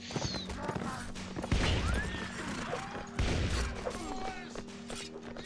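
In the video game Mount & Blade, 1866 mod, a horse gives a few rising whinnies amid thudding hoofbeats and scattered impacts, all fairly quiet against the ambient game sound.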